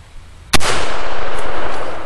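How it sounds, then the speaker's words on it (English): A single loud, sharp gunshot from an M1 carbine firing full metal jacket ammunition into a Kevlar helmet cracks outdoors, followed by a long, bright, decaying echo. "Let's go ahead and shoot it with the M1 carbine, full metal jacket."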